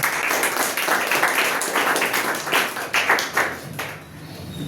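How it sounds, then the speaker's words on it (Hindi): An audience at a student result ceremony applauds the successful students with dense, steady clapping from many hands, loud and continuous before it thins slightly near the end. "तमाम विद्यार्थियों के लिए जोरदार तालियों स्वागत कीजिए उनका"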